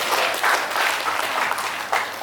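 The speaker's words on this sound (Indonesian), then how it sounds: "Oke, tepuk tangan untuk diri kita masing-masing." Brief, steady round of applause from a crowd at a prayer service in Bandung, clapping fairly close and even in level for a couple of seconds.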